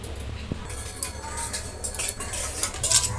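A utensil stirs and scrapes chicken with yogurt and spices in a pan, giving soft clinks and wet scraping over a low background, close and uneven, with no talking.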